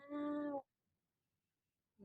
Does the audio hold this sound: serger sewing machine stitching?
no